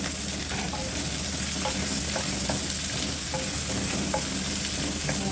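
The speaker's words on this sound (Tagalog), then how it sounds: "konting gisa-gisa lang itong sibuyas para pareho siya ng vegetable" Onions sautéing for a vegetable stir fry, giving a steady, close sizzle with soft stirring scrapes in the pan throughout, and no voices.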